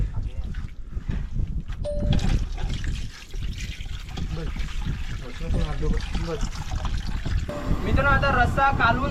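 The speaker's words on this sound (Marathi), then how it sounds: "आता थोडं थोडं पाणी घालू" Water trickles and pours steadily into a pot of curry being cooked on a boat, with a voice talking over it and kitchen clatter around.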